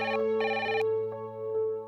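A telephone ringback tone, two bright repeated rings close together with pauses, over a steady low hum, heard while a woman places a call to her son on the road.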